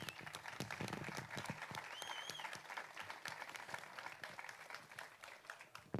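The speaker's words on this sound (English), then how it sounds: "a big round of applause for Angel as well" Audience applause for an academy player at a FC Malaga City academy presentation evening, a dense steady clapping crowd sustained for several seconds, with a faint whistle partway through.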